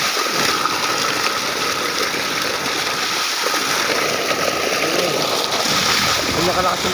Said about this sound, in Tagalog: Yung nakalakas yung tubig dito sa pispan.